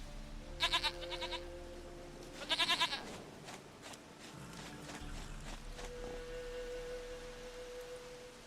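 A goat in The Witcher 3 bleats twice in quick, wavering bursts near the start, then low game ambience and faint tones carry on with no further calls.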